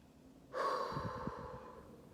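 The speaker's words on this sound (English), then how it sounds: "You want to be able to hear your breath." A single slow meditation breath, drawn in through the nose and released through the mouth, a soft airy rush that swells then fades, close and quiet with no talking.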